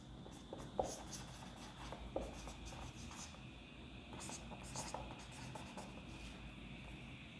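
Numbers are written on a board in quick scratchy strokes, repeated in short bursts at a steady pace, quiet and close against a faint background hiss.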